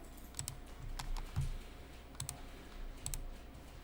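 Keys clatter on a computer keyboard as entries go into accounting software, a few quiet scattered clusters of clicks with short pauses between, with no talking.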